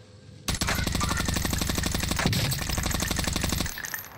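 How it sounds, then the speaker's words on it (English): Rapid sustained automatic gunfire in Call of Duty Warzone, loud and close, a continuous burst of evenly spaced shots lasting about three seconds before cutting off. "He's shooting me"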